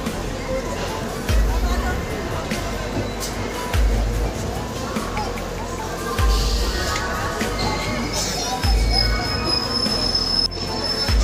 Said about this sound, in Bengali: আমাদের ট্রেন ছেড়ে দিল হাওড়া থেকে।